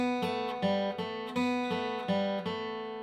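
Four plucked acoustic guitar notes from the bluegrass fiddle tune Turkey in the Straw, played clearly and alone, each ringing briefly before the next in an even rhythm.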